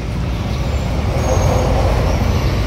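A bus pulls in near a roadside restaurant, its loud diesel engine rumbling steadily and building slightly as it arrives, with traffic noise around and no talk.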